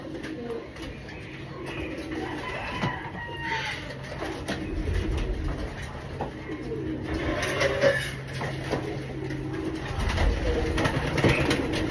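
Pigeons coo on and around a roof where they peck for minerals, their soft calls rising now and then over a steady low ambient rumble with no talk.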